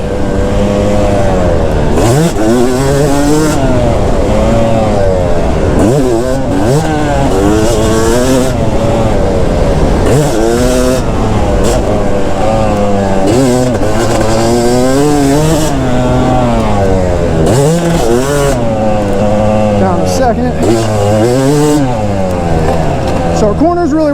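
A Yamaha YZ250 two-stroke dirt bike ridden hard over loamy corners and bumps, its engine loud and close, revving up and down constantly, with a rider speaking over it.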